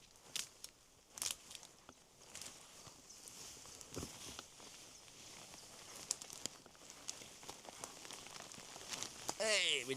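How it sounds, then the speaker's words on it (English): Rain falling in a forest during a solo wild camping trip, a steady soft patter with scattered sharper drips and rustles close by, ending in a louder burst near the microphone. "is when you come out in the rain"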